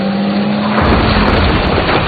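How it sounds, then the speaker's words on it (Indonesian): A car speeds past on a street in a loud, close rush of engine and road noise that swells and stays strong, with a steady tone before the car arrives. "sebuah mobil melaju kencang ke arahnya"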